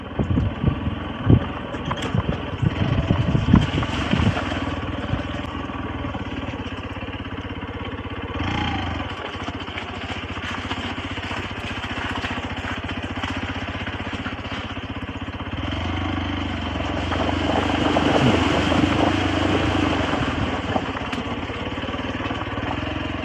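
A motorcycle riding a rough road on a trip through Arunachal Pradesh, its engine droning steadily and close for over twenty seconds amid wind buffeting and occasional thumps and rattles from bumps, with nobody talking.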